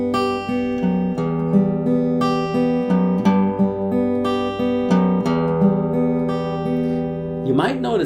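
Accompaniment fingerpicked on a guitar's highest three strings over an unchanged bass, a gentle repeating arpeggio of bright plucked notes up close, followed by a voice beginning to speak at the very end.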